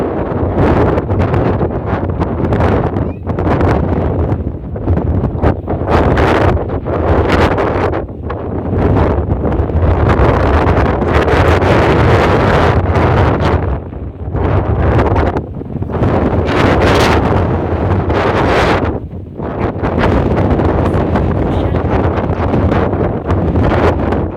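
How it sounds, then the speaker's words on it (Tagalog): Strong seaside wind beside a concrete seawall buffets the microphone in loud, gusting roars that swell and ease repeatedly over several seconds each, with no other sound standing out. "Hangin dito guys."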